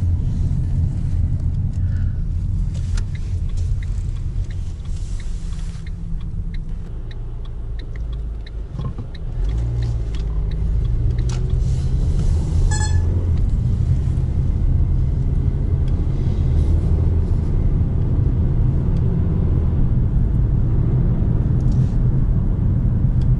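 Heard from inside, a car drives along a city avenue with a steady, close low rumble of engine and road noise. A faint ticking comes in partway through.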